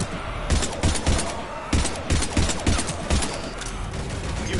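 Rapid gunfire in the Mass Effect video game, a dense run of repeated thumping shots over a loud, busy battle background, steady throughout.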